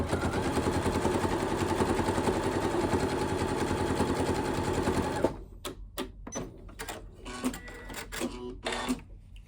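A sewing machine stitches through thick layers of fabric for a Christmas stocking with a longer stitch, a fast steady mechanical whir for about five seconds, then stops, followed by short handling clicks and rustles.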